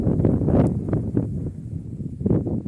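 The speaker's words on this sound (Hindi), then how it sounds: "इतनी तेज हवा चलने लग गई है यहाँ पे" Strong wind gusts in a mountain forest, blustering against the microphone in loud, uneven rumbling bursts that rise and fall.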